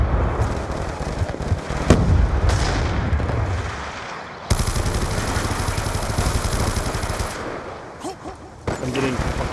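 Frag grenade blast in a Call of Duty match, a loud booming burst over continuous gunfire and battle noise, with a sharp crack near two seconds and dense firing throughout.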